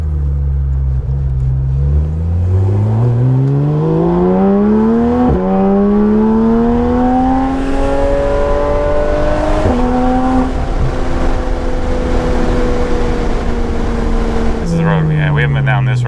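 A Porsche GT3RS with Dundon race headers and full exhaust accelerating through several gears, loud engine whine climbing in pitch with sharp shift breaks, heard from inside the car.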